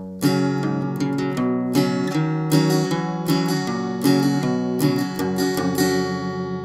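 Guitar picking the second line of a song, a steady run of plucked notes that ring into one another, played close and clear with no talking over it.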